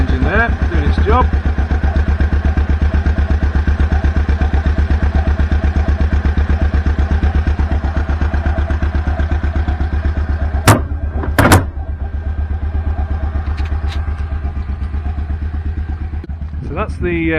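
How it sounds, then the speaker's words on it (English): A John Deere Gator 590i utility vehicle engine runs steadily and loudly close by, a continuous mid-pitched drone with brief clattering knocks near the end. "The engine there, doing its job."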